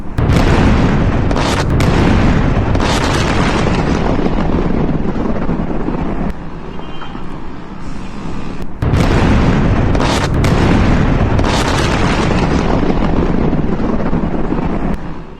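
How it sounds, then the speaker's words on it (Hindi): Heavy booming explosions from bombing at Chabahar port, Iran, come as a loud, continuous roaring rumble with surging blasts and a brief lull midway. "चाबहार पोर्ट के पास हमला होता है और जबरदस्त धमाका यहां पर होता हुआ दिखता है"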